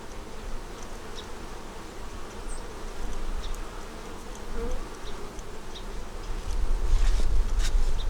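Honey bees drone in a dense, continuous buzz from an opened hive in cold weather, close and full, with individual bees zipping past now and then and some handling noise near the end.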